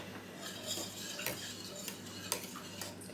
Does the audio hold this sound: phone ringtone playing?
no